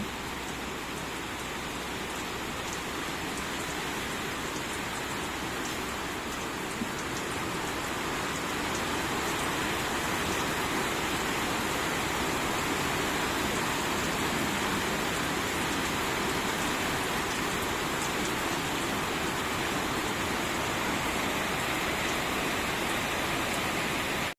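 Heavy typhoon rain from Typhoon Opong pours steadily over San Pablo City, Laguna, a dense, unbroken roar of falling water that stays loud and even throughout with no voices.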